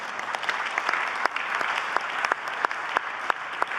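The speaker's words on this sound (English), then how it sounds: "I think that deserves a round of applause indeed." Audience at a plenary conference session giving a round of applause, a fairly close, continuous patter of many hands with a few sharper claps standing out, unbroken for several seconds.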